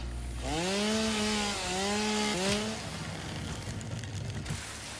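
A chainsaw in the video game Satisfactory revs up with a rising whine, holds a steady buzzing drone, dips and revs again, then fades into a rough grinding hiss as it cuts through wood.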